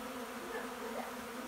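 Honey bees buzz in a continuous, faint drone around a bee yard during honey extraction cleanup, a steady hum with no talk.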